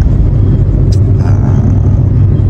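Steady, loud low engine rumble from inside a Grab ride-hailing car, with a brief faint hiss partway through and no talking.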